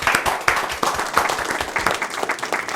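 An audience claps for both teams at halftime of a televised quiz show, with lively, uneven bursts of applause and some individual claps standing out close by.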